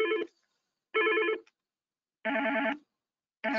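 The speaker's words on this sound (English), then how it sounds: "So if you don't like the default ringer, you can change it here. And you have all types of ringtones." Yealink desk phone sounding a warbling electronic ringtone in three clear, loud bursts separated by silent gaps, with a fourth burst starting at the end.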